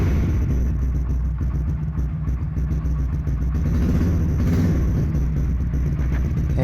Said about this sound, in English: As you can listen, it is very loud and bassy and not irritating at all.